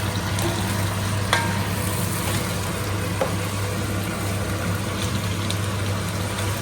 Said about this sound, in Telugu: ఇప్పుడు మనం ముక్కలు పట్టేస్తున్నాం కదా